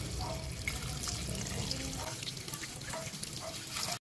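Purple yam (ube) is washed under running water in a sink, a steady rushing and splashing stream with small sloshes as the tubers are handled, close and continuous until an abrupt stop.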